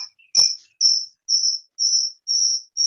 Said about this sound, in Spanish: Hay un grillo, parece,